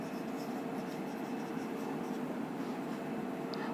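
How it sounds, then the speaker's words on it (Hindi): A pen or marker scratches steadily across a board or page as a remark is written during a chemistry lesson, a continuous close rasp with no talking over it. "रिमार्क लिख दे रहा हूं एक"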